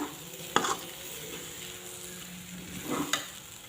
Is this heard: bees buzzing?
no